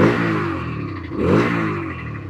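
A Bajaj Freedom 125 CNG motorcycle running on petrol revs twice, the engine note climbing, easing off, then swelling again, close and fairly loud with no talk over it.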